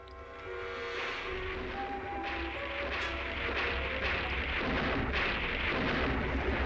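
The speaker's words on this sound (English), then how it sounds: "Bring on the lightning and thunder." Thunder in a 1973 Frankenstein film sounds as deep, rolling rumbles that build over several seconds, with some sharper cracks standing out above a dense, dark storm bed.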